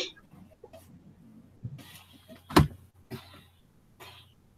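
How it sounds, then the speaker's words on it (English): A person coughs a few times, with one sharp, loud cough in the middle among softer throat-clearing and breathing, close and quiet otherwise, with no talk. "the more that I'm talking, the more I'm coughing"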